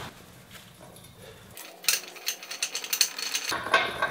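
A 12 mm wrench ratchets on an exhaust nut of a Honda CB750K motorcycle, giving a run of close, loud clicking turns after a quieter start.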